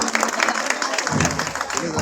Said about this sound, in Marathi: एका दादांसाठी आपण जोरदार टाळ्या वाजवूया